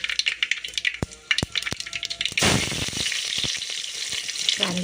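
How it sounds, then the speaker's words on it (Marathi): Mustard seeds hit hot oil for tempering Marathi toor dal amti. A few sharp pops come first, then a loud, dense sizzle bursts up and holds steady and close, with no talking over it. "आपण आता फोडणी मारत आहोत."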